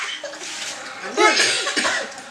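A person coughs a few harsh, close bursts in quick succession, loud and raspy, with no speech over them.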